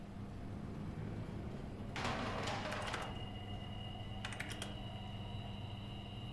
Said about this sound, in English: Typey on the keyboard.